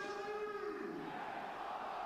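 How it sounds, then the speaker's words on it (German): Football fans at an Austrian Bundesliga match cheering after a goal, a broad crowd roar heard faintly at a distance. "da jubeln nicht nur die Fans und Spieler"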